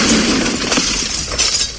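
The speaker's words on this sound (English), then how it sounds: "More debris slams into the control room, shattering the remaining window and sending glass everywhere." A control room window shatters as debris hits it in a dramatized scene, a loud crash that sends glass breaking and clattering everywhere. Several bursts of shattering and tinkling follow one another over a rough, noisy background.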